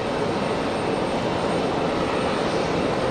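An F-15 jet roars steadily at Raleigh-Durham airport, a broad, constant engine wash that holds at an even, fairly loud level throughout with no voices.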